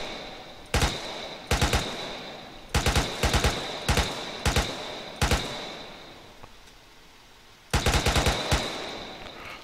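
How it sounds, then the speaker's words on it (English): Gunfire in the Arma military shooter game on a Takistan fireteam mission: sharp, loud bursts of rapid shots in several clusters, a pause near the end, then a final burst. "Is that you shooting?"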